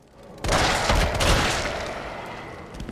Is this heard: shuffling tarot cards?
no